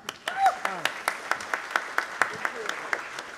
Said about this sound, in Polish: Pan Czesław Majewski, wielkie brawa.